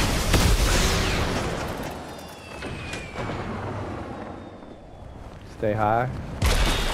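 Gunfire in Fortnite, with distant bursts of shots and booms under game noise, while players talk over it.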